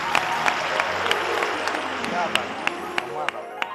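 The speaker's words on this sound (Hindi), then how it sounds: "तालियां" A studio audience on a comedy talk show claps in a thin, uneven round, with a few loud individual claps cutting through under a speaking voice and crowd murmur.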